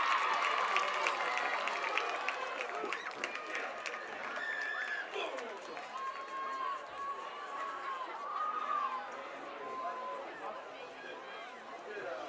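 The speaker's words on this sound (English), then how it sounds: "One more big round of applause to the Atchison High School" A stadium crowd at a high school football playoff game applauds the Atchison High School band, scattered claps rising out of steady crowd chatter and talking voices, moderately loud and continuous throughout.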